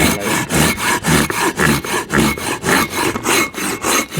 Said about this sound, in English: Just cut from the pull, so you don't want to put any pressure on pushing it, and it effortlessly cut through